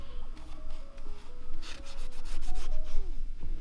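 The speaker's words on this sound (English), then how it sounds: "we're just using some napkins or like shop towels and brake cleaner on the surfaces" Shop towels soaked in brake cleaner wiping down the surfaces of a Subaru STI engine being built, a close, continuous rubbing and scrubbing with short squeaks and repeated swipes at a steady, busy pace.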